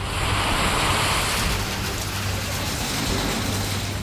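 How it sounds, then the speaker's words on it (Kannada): Streams swollen by heavy rain and hail in Karnataka rush past in a constant, loud roaring wash of water, close and unbroken, with a wind-like hiss and no talk. "ಹಳ್ಳ ಕೊಳ್ಳಗಳೆಲ್ಲ ಉಕ್ಕಿ ಹರಿದಿವೆ."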